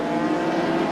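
Classic touring race cars at Donington Park hold a dense, loud blend of engine revs on the grid at the start, a continuous roar with no talk.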